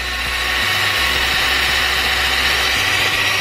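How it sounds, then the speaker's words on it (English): A small RC car engine holds a steady, continuous drone at full throttle, loud and close throughout with no talking. "And that's full out, full throttle."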